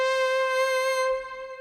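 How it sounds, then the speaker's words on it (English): A single sustained tone from an Arturia CS80 synth with polyphonic aftertouch rings steadily and cleanly, then softens slightly as it fades near the end, heard alone. "And so this is how aftertouch sounds."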